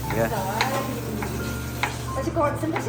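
Onions stir-fried in a pan in a Kerala-style home kitchen, steady sizzling with repeated scraping stirs, close and moderately loud, with faint voices in the background.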